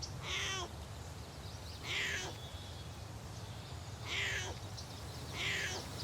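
Leopard cubs at play among dry leaves, giving several soft, wavering meow-like calls spaced a couple of seconds apart over low rustling background noise, fairly faint and close.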